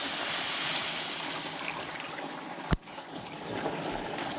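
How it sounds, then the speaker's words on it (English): Milk poured into sizzling hamburger steak gravy in a pan, a soft steady trickle and bubbling hiss close by, broken by one sharp clack partway through. "we'll add in our milk here"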